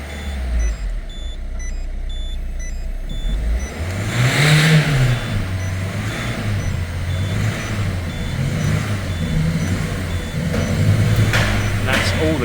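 A small manual van's engine revs up and settles repeatedly while shifting through the gears, close and steady beneath road and cabin noise, with faint beeps and a voice talking briefly.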